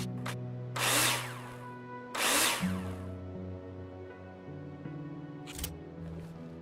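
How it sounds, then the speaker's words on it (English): A power drill driving screws into wall profiles in the Builder Simulator video game, with two loud whirring bursts close by, a third shorter burst, and a steady tonal hum between them. "Now place them in the holograms and screw them in with a drill."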